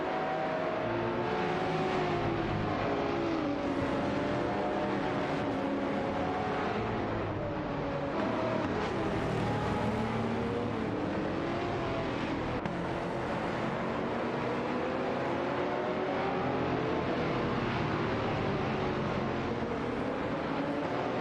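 Race cars in a racing video game, a Marcos Elm 600 GT2 and an Aston Martin DBS9, drone steadily for the whole stretch with engine pitch climbing and falling through gear changes and passes, and no voices over them.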